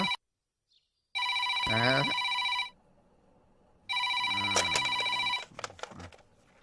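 A telephone rings twice in electronic trilling bursts, with brief voices heard over the ringing and a pause between rings.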